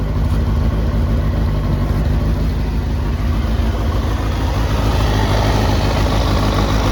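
A Kawasaki ZX6R motorcycle engine with a sputtering problem runs close by, a loud and steady rumbling drone throughout, with no clear breaks or misfires standing out.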